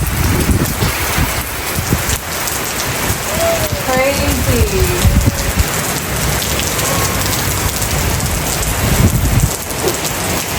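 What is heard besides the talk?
heavy rain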